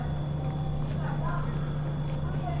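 Horse hooves clip-clop at a steady walking pace in the Red Dead Redemption video game, moderately close under a constant low hum and game ambience.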